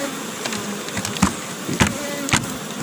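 Honey bees swarm out of an opened hive during a beekeeping split in Jamaica, a steady close buzzing with individual bees zipping past the microphone several times.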